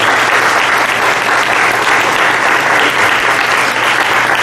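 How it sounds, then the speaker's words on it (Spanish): Sustained congregation applause fills a church during a Sunday service, loud and steady throughout with dense, even clapping and no break. "Un aplauso para el Rey"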